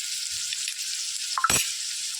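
Tomatoes sautéing in a pan for phodniche varan, a steady hissing sizzle with a brief stir and spatula knock near the middle, no voices.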